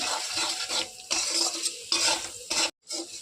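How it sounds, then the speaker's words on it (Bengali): Ground cumin and coriander powder are stirred and scraped around a hot pan with a spoon while cooking the spice base for Khasi mutton jadoh: short uneven scraping strokes with faint sizzling, close and fairly quiet, with no voices. "দিয়ে ভালো মতো কষিয়ে নেব আগে"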